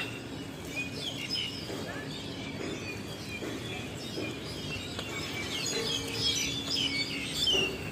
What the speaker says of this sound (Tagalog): ang ganda ng huni ng mga ibon